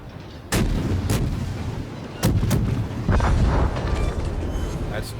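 Ship artillery salvos in World of Warships, a few heavy booming bursts at irregular intervals over a steady low rumble of battle ambience, loud and close.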